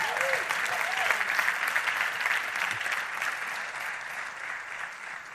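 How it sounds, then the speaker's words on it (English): An audience applauds continuously in a large hall during a sermon, dense steady clapping that slowly fades toward the end, with a faint voice briefly over it. "everybody clap your hands"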